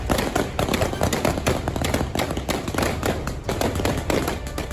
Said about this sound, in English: firing into the air.